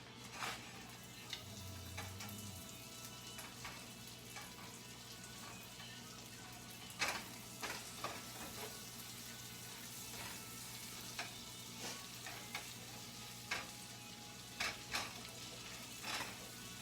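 Butter melting in a pan with a soft, steady sizzle and occasional louder spits and pops, fairly quiet throughout, no voices.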